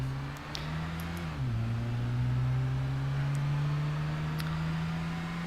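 A small 1.5 litre car engine in the Gran Turismo 5 racing game holds a steady, buzzing drone. Its pitch dips briefly partway through, then settles and climbs gently, loud and continuous with no talk.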